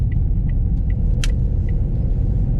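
A small diesel engine in a modified Ford Fiesta Zetec S drones steadily while driving, a loud, even rumble with faint brief clicks over it.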